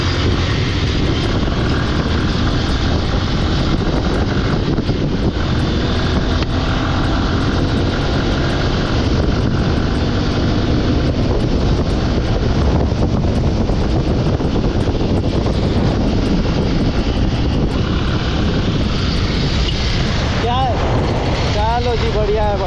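Hero XPulse 200 motorcycle engine droning steadily while riding, loud and continuous under heavy wind rush, with a voice talking over it at times.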